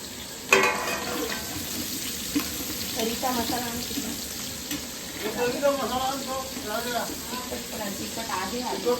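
Chopped onion frying in a hot pan during home cooking, a steady close sizzle running throughout with a few louder crackles, while people talk in the background.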